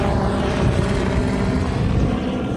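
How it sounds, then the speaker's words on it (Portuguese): Police helicopters fly low overhead in a steady, loud, close rotor roar with a continuous rumbling thump and no pause, with no talking. "O tempo todo passando helicóptero nos voos rasantes para observar o que está acontecendo ali em torno do prédio."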